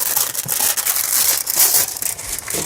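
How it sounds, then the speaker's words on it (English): A plastic liner is peeled off adhesive window film with a close, crinkling, crackling rustle that continues unevenly for a few seconds, with no voices. "And then this liner is gonna come off nice and gentle, just like that."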